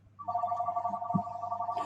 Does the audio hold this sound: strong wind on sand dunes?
no